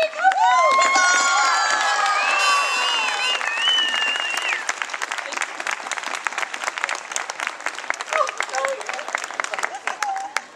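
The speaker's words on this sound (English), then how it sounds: "Let's have a cheer for the newly engaged happy couple!" An outdoor crowd at a Renaissance faire royal court cheers and applauds a newly engaged couple, with loud whoops and shouts at the start and then sustained dense clapping that gradually thins out.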